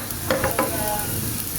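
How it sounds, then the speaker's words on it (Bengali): Potatoes frying in a pan for chicken biryani: a steady close sizzle with a few brief stirring scrapes near the start, alone without talking. "এরকম করে বেজে নিতে হবে"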